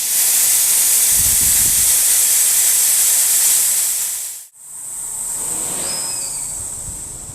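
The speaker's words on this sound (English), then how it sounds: "when we turn the disconnect valve off, it not only blocks the incoming air, but drains the air out of the machine" Compressed air drains out of a Norfield 4000 machine after its disconnect valve is shut off, a loud steady hiss that stops abruptly, then a quieter hissing release with a faint whistle follows.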